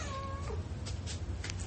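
A cat gives a short, drawn-out meow with a rising then falling tone, fairly faint and close, followed by quiet room noise and soft rustling.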